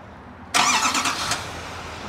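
A 2021 Chevrolet Silverado 2500HD crew cab pickup with automatic start fires up after a short quiet stretch, a sudden loud crank-and-catch burst that settles into a steady idle.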